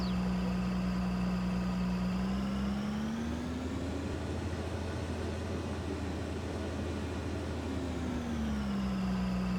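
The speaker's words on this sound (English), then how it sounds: "Downhill. The engine's barely taking over." Engine of a farm vehicle in a farming video game rolling downhill, a steady droning hum that rises in pitch, holds, then drops back, continuous and fairly loud with no talking.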